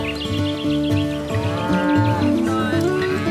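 Cattle low loudly and continuously, several overlapping moos close by, with a faint chirp of birds in the background and no talk.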